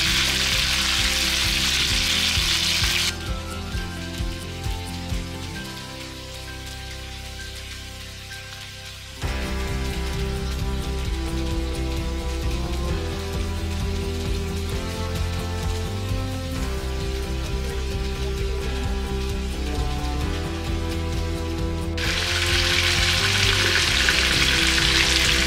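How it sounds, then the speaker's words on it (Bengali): Prawns fry lightly in hot oil in a kitchen for a Bengali malai curry, giving a loud, steady sizzle throughout with a faint tonal background and no voices. "মালাইকারির মাছ আমরা খুব একটা কড়া ভাজবো না, এটা হালকা করে ভাজবো"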